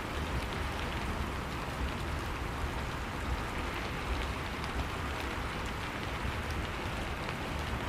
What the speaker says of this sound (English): gently, with the rain still falling